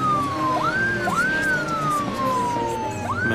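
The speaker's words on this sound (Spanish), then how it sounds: "Ambulancia." An ambulance siren wails in repeating rising and falling sweeps, loud and steady over a dense low rumble of background noise.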